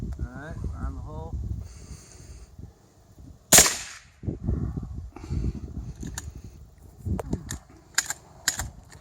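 A single sharp suppressed shot from a .300 Blackout rifle fitted with a titanium suppressor, fired outdoors into dirt; one loud crack stands out midway, with people talking before and after.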